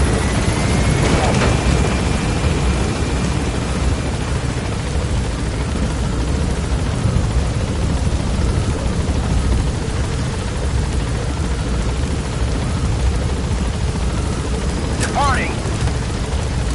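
A Metal Gear Solid 5 helicopter lifts off from a landing zone, its steady loud rotor and engine roar filling the scene with constant droning wash and a brief radio-like tone near the start.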